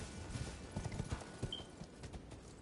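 Horse hooves clip-clop quietly in an irregular trot as a rider travels on horseback in Elden Ring: Shadow of the Erdtree, a soft, close patter of thuds with faint ambient background.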